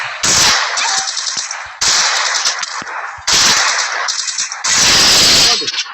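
Loud automatic gunfire erupts in a Lone Wolf shooter video game, coming in four rapid bursts separated by short gaps, sharp and close in the mix.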